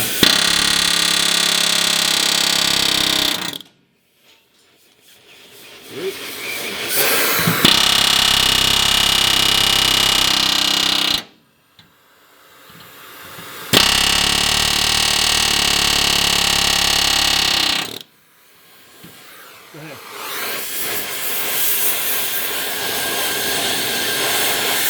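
An air chisel with an overheated, resharpened bit cuts into a truck frame during a C-notch suspension job. It makes three long, loud, harsh hammering bursts separated by short pauses.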